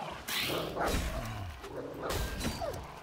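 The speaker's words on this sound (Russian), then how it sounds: "Вот тут у нас сейчас будет ждать собака." A dog barks in the survival video game DYSMANTLE: a few short, sharp barks mixed with thuds and swooshing game noise over a dense background.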